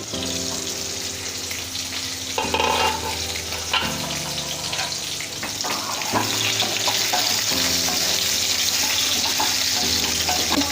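Stuffed bitter gourd frying in a pan, a steady close sizzle throughout with occasional scraping and stirring bursts as the pieces are turned.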